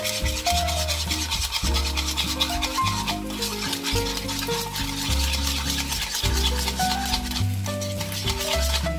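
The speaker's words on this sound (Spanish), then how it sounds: "comenzamos a batir las yemas" Egg yolks are beaten by hand in a bowl with a whisk, making quick repeated scraping and rubbing strokes at a brisk rhythm. A background music track with steady notes plays underneath.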